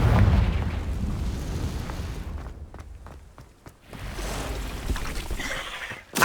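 A Confringo spell in Hogwarts Legacy bursts with a deep rumbling boom that fades into crackling debris, followed by another heavy blast near the end, loud and close with no talk.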